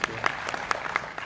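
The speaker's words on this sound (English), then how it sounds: "Please give a big applause to อาจารย์ณัฐพงศ์" Brief burst of audience applause for a presenter at a climate finance conference, a few scattered, fairly faint claps over a short moment with some room murmur.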